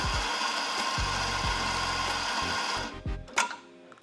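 Burr coffee grinder running steadily as freshly bought beans are ground to purge stale grounds from the chamber, a loud continuous whirring buzz that cuts off near the end, followed by a few short clicks and knocks.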